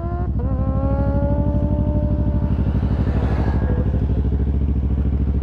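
A yellow and mint-green Kawasaki ZH2 motorcycle sits close by with a loud, steady, throbbing engine note that rises slightly partway through as it begins to move off. No one speaks.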